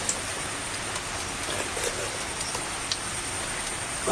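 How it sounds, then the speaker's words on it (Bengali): Steady rain falls at night as a constant even hiss, with faint bird cooing and a few small drips or taps scattered through it. "রাত্রে কখন থেকে বৃষ্টি হচ্ছে"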